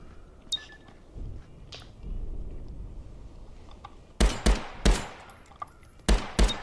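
Single-shot gunfire in a VR shooter game played with a DeadeyeVR modular gunstock: after quiet clicks and handling noise, five or six sharp, loud reports arrive in an uneven sequence.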